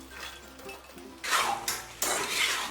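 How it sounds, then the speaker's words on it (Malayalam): Sliced onion and capsicum drop into a pan, with two quick bursts of hissing sizzle and light clinks of a utensil stirring against metal, close by and fairly quiet. "ഇനി നമുക്ക് ഈ കട്ട് ചെയ്ത് വെച്ചിരിക്കുന്ന സവാളയും ക്യാപ്സിക്കവും കൂടി ഇട്ട് കൊടുക്കാം"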